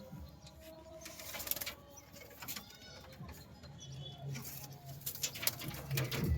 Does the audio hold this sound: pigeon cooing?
yes